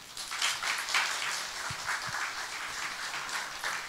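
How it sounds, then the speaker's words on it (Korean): Church congregation applauds to welcome a missionary at a Sunday service, a lively continuous patter of many hands clapping at moderate volume, with a couple of low thumps midway. "선교사님 나오실 때 환영의 박수로 맞이하겠습니다."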